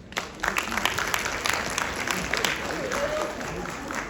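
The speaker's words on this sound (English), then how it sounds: "Let's give Alabama State a round of applause" A crowd of high school seniors, the class of 2025, applauds at a university recruiting tour event, with dense, sustained clapping and cheering that fills the room, mixed with voices.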